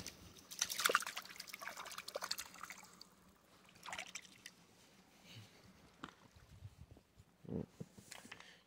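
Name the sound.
water pouring to wash a dug-up chunk of lead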